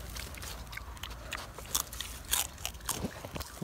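A Kurobuta black piglet chews wet grass up close, soft wet crunching and biting in an irregular rhythm, faint and without talk.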